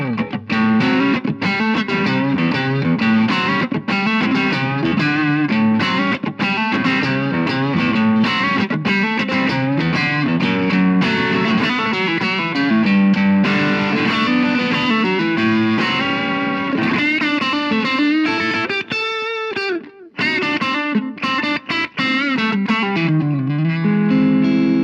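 Heavily distorted electric guitar plays continuously, loud and saturated, with sustained notes and bends and a brief dip near the end.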